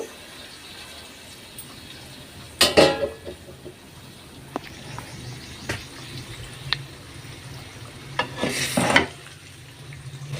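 Chicken pieces frying in a pan on low flame give a soft, low sizzle, broken by a couple of louder bursts of lid or stirring clatter and a few small clicks, with no talking.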